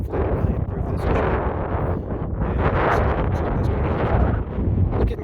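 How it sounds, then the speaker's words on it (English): Gusty wind blows across an open winter pasture, buffeting the microphone in a loud, rough rumble that rises and falls in waves throughout, with no clear break. "It's getting kind of windy."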